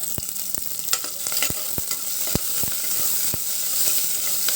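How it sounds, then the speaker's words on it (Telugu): Food frying in a pan, a loud continuous sizzle right up close, broken by sharp regular taps and scrapes of stirring, no voices. "ఇలా ఫ్రై చేసుకున్నామండి."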